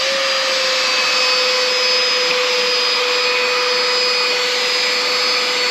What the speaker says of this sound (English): Today, we're going to bring a mini portable vacuum.